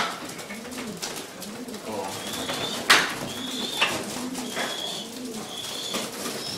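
Young pigeons coo repeatedly in soft, rolling low calls inside breeding-loft boxes, with a sharp clatter and some higher chirps and rustling nearby.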